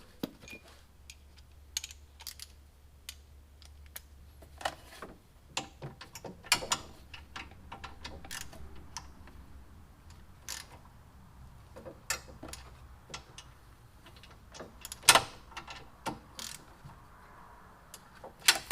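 Bolts on a one-piece KFI winch mounting plate for a Badlands 5000 winch on a Honda Pioneer being snugged up, heard as scattered faint metallic clicks and ratchet-like ticks over quiet background, irregularly spaced.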